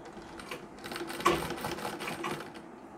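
A sewing machine stitches a saree, its needle running in a quick, steady mechanical chatter at close range and fairly quiet level, with a brief louder clack partway through.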